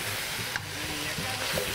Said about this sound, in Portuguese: E vai fritando um pouco mais.